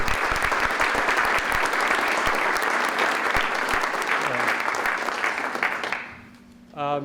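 Conference audience at a PFAS in Wisconsin opening session applauding the planning organizations, a loud steady round of clapping that fades near the end as a voice begins speaking.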